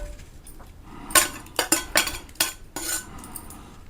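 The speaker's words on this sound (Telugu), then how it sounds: "ఇవన్నీ వేసేద్దాం రోట్లో" Roasted ingredients for a coriander and tomato chutney are tipped into a stone mortar, giving several sharp clattering knocks and scrapes in quick succession, close and fairly loud.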